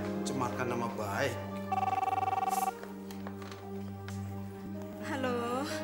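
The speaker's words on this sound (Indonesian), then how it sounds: "Aduh, ada telepon." A telephone rings with a steady electronic trill partway through, set in an Indonesian TV comedy scene with music and other sounds underneath.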